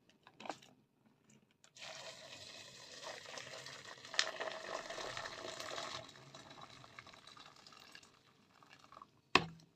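Boiling water is poured from a pot over soaked chickpeas in a kitchen, a steady bubbling, splashing pour lasting several seconds, framed by a few clinks and a sharp knock at the end, without talk.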